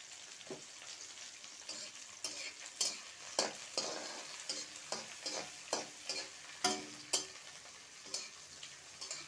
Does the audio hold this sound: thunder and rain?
no